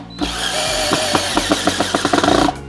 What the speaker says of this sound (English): there's really no issue with drilling in smaller wood screws